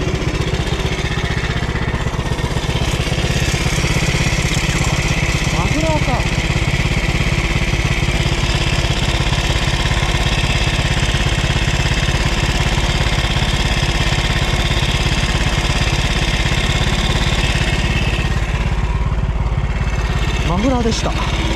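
A motorcycle engine idles steadily for the whole stretch, a low continuous rumble with a few brief chirpy noises over it.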